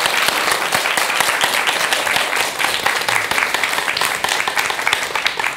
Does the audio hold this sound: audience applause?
yes